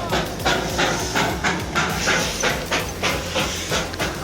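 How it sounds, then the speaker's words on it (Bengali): A coal-fired Darjeeling toy train steam locomotive chuffs and hisses close by, with steady rhythmic pulses of steam and clattering wheels running continuously and loudly. "এই ট্রামগুলো আবার কয়লাতে চলে, সেই জন্য দেখুন সামনে একজন বসে বসে কয়লা দিচ্ছে, আর প্রচণ্ড ধোঁয়াও হয়"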